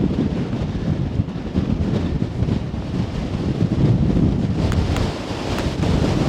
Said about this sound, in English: We'll get an idea of what the wind's going to be like.